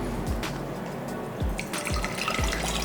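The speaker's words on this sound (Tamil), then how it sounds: "இப்போ நம்ம இதில் தண்ணி போட்டுக்கலாம்." Water pours into a cooking pot at close range, a continuous liquid splash and gurgle with soft recurring surges.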